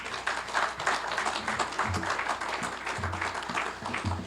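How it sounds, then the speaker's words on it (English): Parents and guardians at a sports excellence awards ceremony applaud, a steady wash of many hands clapping at moderate loudness with a few sharper close claps, and a voice briefly over it. "Give yourself a round of applause."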